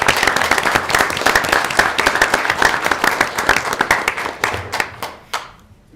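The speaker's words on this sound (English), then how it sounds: "maybe one more round of applause for everybody" Audience applause at a school board of education meeting, steady dense clapping from many hands that thins out and fades near the end.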